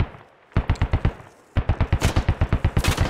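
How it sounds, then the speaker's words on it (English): DShK heavy machine gun firing in the Squad video game: two loud bursts of rapid, evenly spaced heavy shots, a short one followed by a longer sustained string after a brief pause. "Here comes the Dishka. The Dishka takes out Droppy J."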